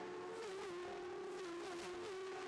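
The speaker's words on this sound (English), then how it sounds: "Listen to those machines revving, screaming their way through there." Road racing motorcycles at the Southern 100 scream past in a high, sustained engine whine with small pitch shifts as they rev through a section of the course, loud and unbroken.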